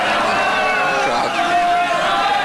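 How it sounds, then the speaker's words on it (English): Impatient football crowd in a stadium at a Liverpool v Celtic match, a loud steady roar of massed voices with whistles and calls rising through it, a commentator talking over the top. "a little impatient at that sort of build-up, and understandably"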